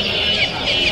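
Native roosters and hens at the Mirpur 1 poultry and bird market cluck in a short, steady burst against a busy, noisy background.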